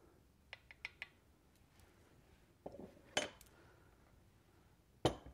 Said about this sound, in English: I'm going to take a long spoon and I'm just going to stir to agitate the top